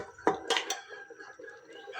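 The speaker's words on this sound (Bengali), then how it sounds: "নেড়ে দিচ্ছি। দেখে নেব কী অবস্থা। গোশটা একটু হবে, সিদ্ধ হয়নি পুরোপুরি," Beef curry being stirred in a cooking pot for a Bihari-style beef dish. A few close metallic clinks and scrapes of a utensil against the pot come in a quick, irregular sequence.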